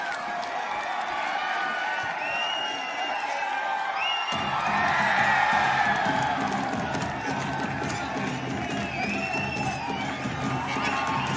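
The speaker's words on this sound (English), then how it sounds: "Now the crowd is cheering for the Virudhunagar team, hoping for them, rooting for them to climb up the scoreboard." A large crowd cheers and shouts at a men's kabaddi final between Virudhunagar and Erode, a steady roar with whoops and children's shrieks rising and swelling midway.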